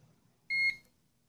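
A single short electronic beep from a Stack-On biometric safe, clear and bright, sounding once against a quiet background.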